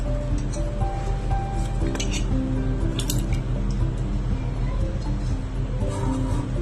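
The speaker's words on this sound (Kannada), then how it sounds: "ನಾವು ತೊಗೊಂಡಿದ್ದ ಇಂಗ್ರೀಡಿಯೆಂಟ್ಸ್ ಎಲ್ಲ ಎಣ್ಣೆಯೊಳಗೆ ಹಾಕಬೇಕು" Herbal ingredients being dropped into hot oil for a homemade hair oil, giving a steady, dense sizzle and crackle throughout with occasional small pops and clinks.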